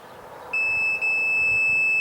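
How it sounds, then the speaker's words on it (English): A steady electronic tone sounds from a multimeter set to continuity while testing a car hatch lock actuator, starting abruptly about half a second in and holding loud and constant to the end with one brief dip. "It's beeping."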